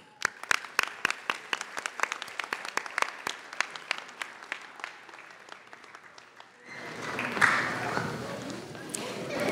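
Applause at a dean's list ceremony: a few people clap in sharp, separate claps at first, then the sound swells into denser, louder applause from the audience after about six and a half seconds.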